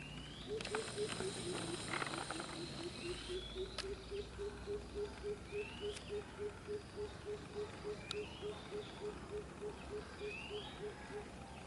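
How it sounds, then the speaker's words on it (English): A ray bird calls from nearby in a forested riverside setting near a fishing village, giving a long, even series of rhythmic pulsing notes, with a few faint higher chirps from other birds scattered over steady outdoor hiss. "That noise you just heard, that's a ray bird."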